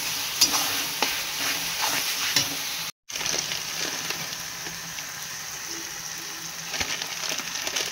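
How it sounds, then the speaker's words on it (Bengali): A spice paste with chilli and tomato frying for mutton curry, a busy crackling sizzle with repeated spoon strokes against the pan, broken once by a brief dropout, then continuing with no talking. "দিয়ে ভালো করে কষাবো। ওইটাকে এখন মশলাটা কষিয়ে কষিয়ে তেল বেরিয়ে যাবে।"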